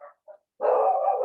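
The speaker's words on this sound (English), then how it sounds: "Sorry about the background dogs." Dogs in the background give two short, faint barks, then a sustained, louder, whining howl that holds to the end. No one speaks.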